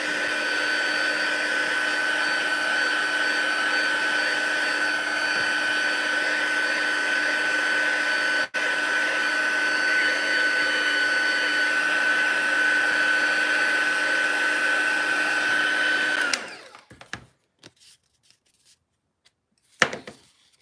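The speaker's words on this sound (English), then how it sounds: "So again, we'll take our heat tool, set it at number 2, full strength, and we'll heat this up." A craft heat tool set to its highest setting, warming a paper craft project: a loud steady whirring blower hum with a high whine runs for about sixteen seconds, briefly dips, then cuts off, leaving faint handling sounds.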